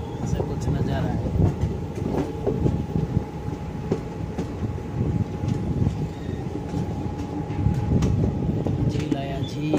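A passenger train in Kerala runs on the rails with a steady loud rumble and rhythmic clatter heard from inside a carriage, with a faint voice beneath.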